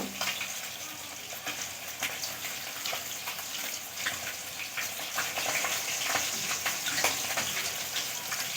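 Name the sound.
pouring two bowls of water into the cooking pan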